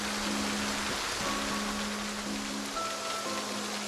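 Steady rain in the zombie survival game Project Zomboid: a constant, even hiss of pattering drops that fills the whole stretch, with faint low sustained tones underneath and no talking.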